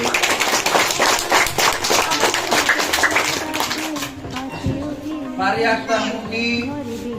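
Audience applause at a scholarship award ceremony honouring a student: dense, steady clapping from a crowd for the first few seconds, then fading as a voice speaks over the room.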